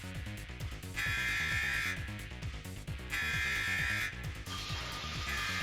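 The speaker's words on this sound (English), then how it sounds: "The alarm still hasn't stopped." In the visual novel DRAMAtical Murder, an alarm sounds as loud, repeating electronic blasts about once per second over a pulsing, rhythmic music track.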